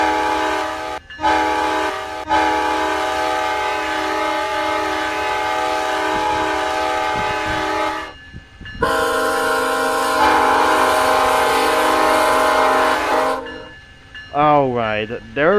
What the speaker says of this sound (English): there goes the emergency horn once again